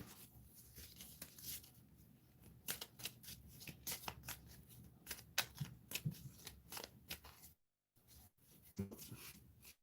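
Cards for the Legends Untold card game are shuffled up close, a dense run of crisp riffling snaps and flicks that stops briefly before resuming.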